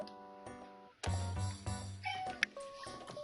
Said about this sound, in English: Who's a talkative cat?